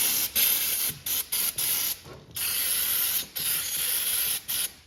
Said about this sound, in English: buy a can of brake cleaner